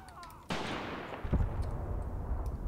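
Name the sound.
sniper rifle shots in the video game Graviteam Tactics: Mius Front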